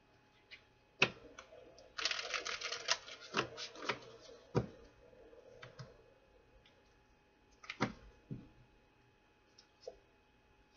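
Rapid riffling of tarot cards in a burst of dense crackling, followed by a few sharp isolated taps and clicks spaced out in a quiet room.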